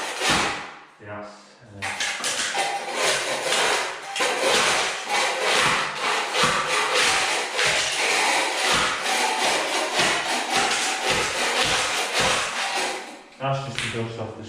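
A big floor scraper pushes across a floor to strip off tiles, giving repeated harsh scraping strokes with short gaps between them, loud and close, after a brief quiet start.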